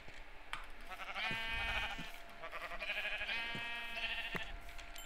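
Sheep in Minecraft bleat in a few wavering, quavering calls, fairly soft and close, separated by short gaps and light game sounds.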